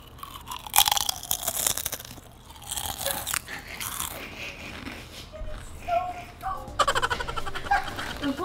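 Ketchup-flavoured potato chips crunched and chewed close up, with sharp irregular bites and rustling between them, faint voices briefly in the background.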